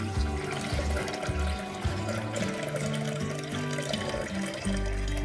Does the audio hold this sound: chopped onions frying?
no